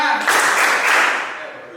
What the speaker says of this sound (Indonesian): 3 kali tepuk tangan.